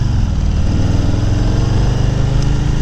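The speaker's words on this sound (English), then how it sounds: "So definitely decent sound too out of this exhaust, the stock exhaust." A 2018 Harley-Davidson Low Rider on its stock exhaust, a loud, close, low throbbing V-twin rumble holding steady without a break.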